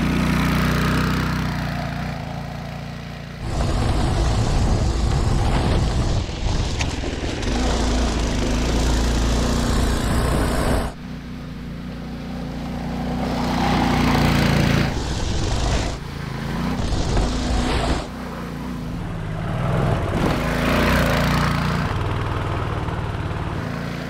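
Upgraded Manco Dingo go-kart engine racing around a course, a small buzzing motor that swells loud and fades repeatedly as the kart passes near and away.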